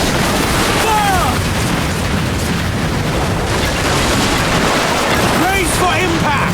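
Ship cannons fire in a naval battle in Assassin's Creed Black Flag, heavy booms rolling under a dense, constant wash of sea, wind and battle noise, with shouted voices cutting through.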